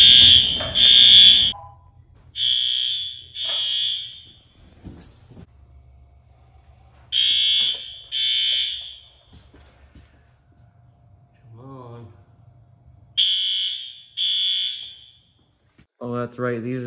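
A ringing fire alarm bell in a school built in 1958 sounds in repeated loud bursts under test, separated by near-silent gaps with faint handling noise and a brief voice.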